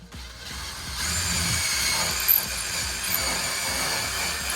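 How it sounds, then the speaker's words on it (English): A steady, whining drill runs continuously at close range, pre-drilling a hole in a wall for a handrail mount, a high buzzing motor with a slight bump partway through as the bit bites. "Let's pre-drill."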